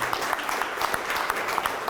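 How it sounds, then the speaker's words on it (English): A crowd applauds at an outdoor flag-raising ceremony, with steady dense clapping from many people that continues throughout at moderate volume. "Round of applause for Jimmy Nolan"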